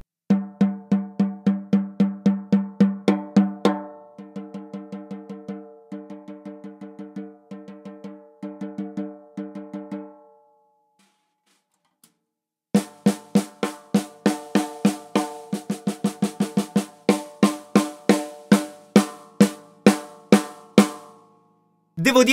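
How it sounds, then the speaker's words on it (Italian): Snare drum with Tuner Fish dampening blocks after a week of use, played in steady single hits, then lighter strokes, a pause, and a burst of fast rolls and accents, close and without talking. "Questo è il suono del rullante il giorno 24 febbraio."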